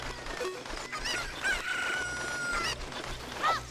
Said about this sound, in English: Alright, get out of here, chicken.